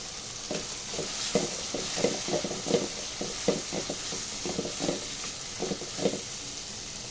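Onions going into a pan of caramelizing tomatoes, with a soft continuous sizzle and repeated scraping stir strokes in an irregular rhythm, close and fairly quiet.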